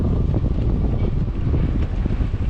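Wind rushes steadily outdoors on a river in winter, buffeting the microphone with a continuous low roar that has no clear pauses.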